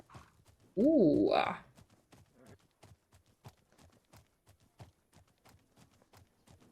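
Horse hooves clip-clop in a steady, regular rhythm in the video game The Legend of Khiimori, fairly soft, with a brief loud exclamation from a voice near the start.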